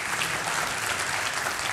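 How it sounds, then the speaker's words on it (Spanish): Church congregation applauding together, a steady dense wash of clapping throughout the short moment with no voices over it. "Des un aplauso ahí donde usted está"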